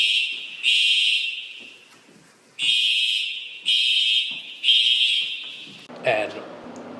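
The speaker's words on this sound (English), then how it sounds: "all of a sudden we hear the fire alarm go off" A fire alarm in an apartment building blares in repeated loud, shrill pulses separated by short gaps, close by and alone.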